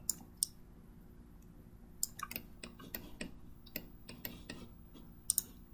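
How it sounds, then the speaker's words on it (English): Sharp computer mouse clicks while the shift key is held, coming as scattered single and double ticks at an irregular pace over a quiet background hum, close and fairly soft. "So I'm holding shift and left clicking to get."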